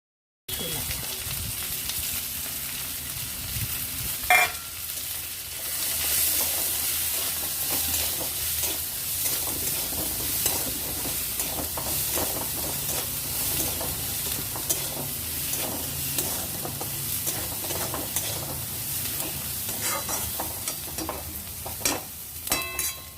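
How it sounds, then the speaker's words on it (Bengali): Potatoes and soaked chickpeas stir-frying in a pan, with a steady loud sizzle and continuous close scraping of a spatula stirring throughout, broken by a couple of sharper knocks; no talk. "এরপর আলু আর ভিজিয়ে রাখা ছোলা দিয়ে কিছুক্ষণ নাড়াচাড়া করে ভেজে নেব"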